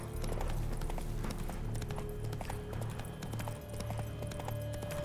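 Roach the horse gallops in The Witcher 3: Blood and Wine, hooves clip-clopping in a steady rhythm close by over a constant backdrop of game music and ambience.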